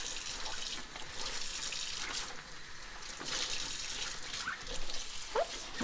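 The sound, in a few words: water running in sink while rinsing nut milk bag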